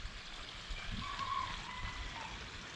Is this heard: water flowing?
yes